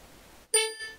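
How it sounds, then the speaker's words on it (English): A single bright bell chime from PluralEyes 3 signals sync completion, striking suddenly after a short silence and ringing out with a clear decaying tone. "And there goes the bell, and it's done."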